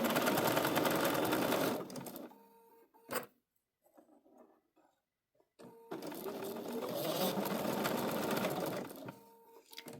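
A sewing machine stitches a fall quilt applique in two steady, loud bursts of running, separated by a pause with small handling clicks and rustles.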